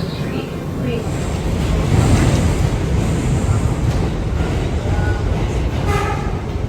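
New York subway R179 F express train riding Queensbound from Coney Island, a loud, continuous rail rumble and clatter heard from onboard, with a faint voice under the noise.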